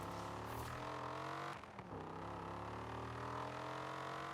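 Dodge Viper ACR engine in Forza Horizon 4, a steady droning note with strong harmonics, briefly dipping in pitch as it shifts gear midway before climbing again, heard alone and quite quiet.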